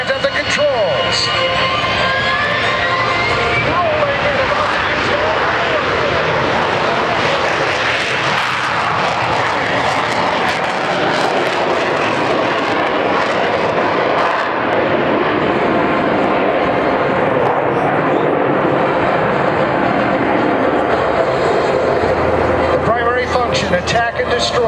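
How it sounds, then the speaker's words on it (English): A McDonnell Douglas Marine jet with a Rolls-Royce turbofan roars loudly through a continuous airshow pass, a broad sustained rush and whine filling the air while an announcer talks over it. "Made by McDonnell Douglas, that Rolls-Royce turbofan engine, thrusting"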